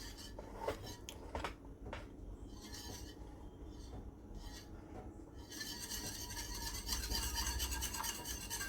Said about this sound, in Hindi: तो इसको हम कंटिन्यू चलाते रहेंगे, चलाते हुए इसको हम पकाएंगे।